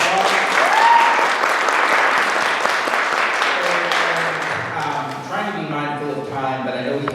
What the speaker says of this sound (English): Let's go ahead and give our panelists a round of applause.